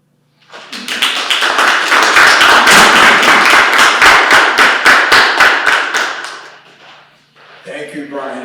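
A crowd applauds a poem at an open mic poetry night, bursting in loud and close with dense, even clapping that holds for several seconds and then fades. A voice starts speaking at the end.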